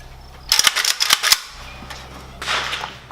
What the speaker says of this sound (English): we did a little shooting with the RPK at 100 yards